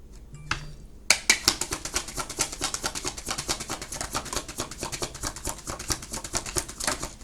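A deck of tarot cards is shuffled, starting with a soft rustle and then breaking into a long, rapid riffle of crisp, close clicking card flips that runs steadily for about six seconds.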